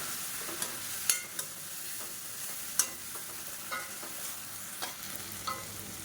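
Ground shallot, garlic and ginger paste sautés in a pan for a South Indian side dish, giving a soft continuous sizzle punctuated by intermittent clicks and scrapes of a spoon stirring, without any talking.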